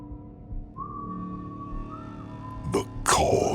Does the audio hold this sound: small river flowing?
no